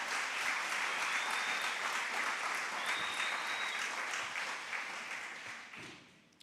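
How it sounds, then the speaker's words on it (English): An audience at an AI week conference applauds a speaker, a dense, even wash of clapping that holds steady and then fades out toward the end. "Another round of applause"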